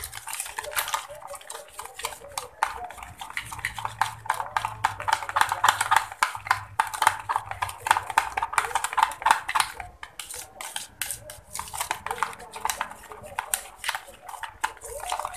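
A spoon scrapes and clinks rapidly against a bowl while spicy chicken wing sauce ingredients are stirred, continuous busy rattling close by.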